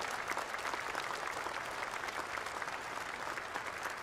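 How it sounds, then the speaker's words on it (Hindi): An audience at a cooperative movement event addressed by the Union Cooperative Minister claps in a steady, even burst of applause that holds evenly throughout without a break. "हम सब इसकी ताली बजाकर स्वागत करें"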